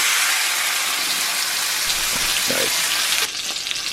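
A thick ribeye steak sizzles in a hot cast iron pan with a steady, loud, close hiss that swells briefly near the end, while a voice speaks a single word.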